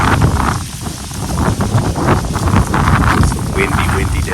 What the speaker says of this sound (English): It's a windy day, y'all.